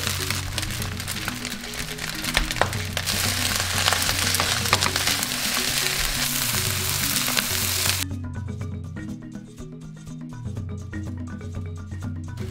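African fried rice sizzles and crackles loudly in a hot pan for several seconds, a dense steady frying hiss with occasional stirring scrapes, then the sizzle drops to a quieter simmering crackle.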